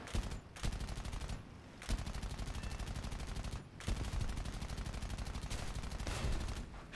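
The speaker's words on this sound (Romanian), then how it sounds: "mi-am continuat spam-ul de mitraliere pe mapă" Rapid machine gun bursts from an aircraft in War Thunder close air support combat, long sustained strings of rattling shots broken by brief pauses, fairly quiet overall.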